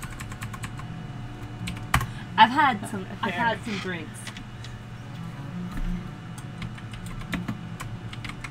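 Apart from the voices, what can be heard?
typing on a computer keyboard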